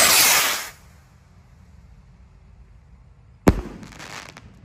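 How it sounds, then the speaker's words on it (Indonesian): A large Roman candle firework rocket goes off outdoors during Eid al-Adha 2025 celebrations, starting with a loud hissing whoosh that fades to quiet, followed later by a sharp bang and a brief fizzing trail. "Roket siap meluncur."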